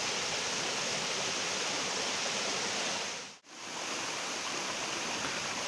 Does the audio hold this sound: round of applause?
no